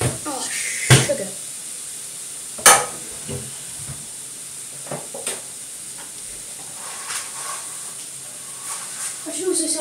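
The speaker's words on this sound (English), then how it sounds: "Okay, so I'm just going to stir these mushrooms in." Mushrooms being stirred into a hot pan in a home kitchen while making stroganoff, with soft sizzling, scraping spoon strokes and a few sharp clanks of utensil against the pan, close and intermittent.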